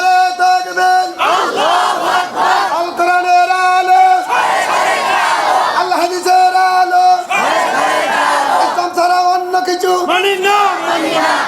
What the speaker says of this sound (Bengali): দুহাত উঁচু করে স্লোগান দিয়ে আল্লাহর দেখান।